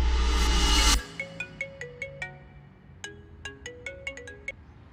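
A phone rings with an incoming video call as a bright melodic ringtone plays a run of clear plinking chime notes, after a brief burst of louder noise at the start.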